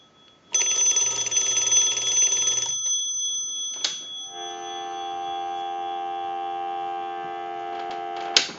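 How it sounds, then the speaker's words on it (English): A steady electronic dial tone from a Mickey Mouse novelty telephone hums on continuously after a brief ringing burst and a click, clear and close with no talking. "we'll give you some dial tone"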